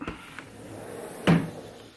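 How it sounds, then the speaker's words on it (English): A hotel balcony door at SoTA Collection The Yeosu opens with a single sharp clack and a brief rattle, close by and otherwise quiet. "Open up the door."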